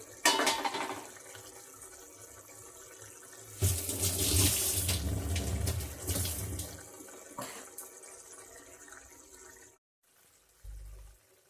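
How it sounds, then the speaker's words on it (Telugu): Tamarind broth poured into egg curry, a sustained splashing liquid pour that rises and falls in intensity before stopping, followed by a brief low thud, close with no talking. "ఇప్పుడు మనం పులుసు పోసుకుందాం"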